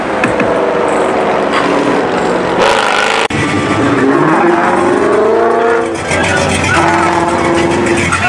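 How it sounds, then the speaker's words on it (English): A car's engine runs and revs at a street car show in Birmingham, Alabama, with loud, rising engine tones over busy crowd noise and nearby talk. "I just got the car going."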